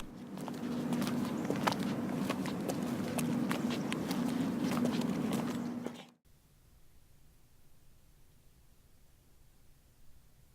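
Foley footsteps of actors walking towards a building play as a dense patter of steps over hiss for about six seconds, then cut off abruptly to near silence.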